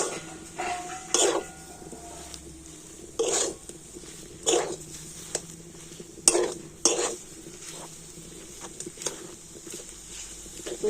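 A pitha mixture with jaggery is stirred in a pan over very low heat, the spoon scraping and knocking against the metal in irregular bursts of several strokes, close by, with no talk.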